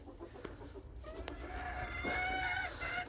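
Chickens cluck and squawk nearby while a dog is being fed, with a rising run of excited calls over a constant low background rumble.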